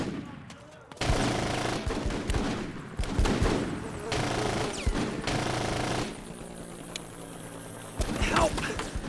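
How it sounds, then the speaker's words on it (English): Gunfire in the Full Spectrum Warrior: Ten Hammer video game: repeated bursts of automatic fire and scattered single shots in a chaotic firefight, loud and clustered, with shouted voices mixed in between volleys. "We are shooting at civilians!"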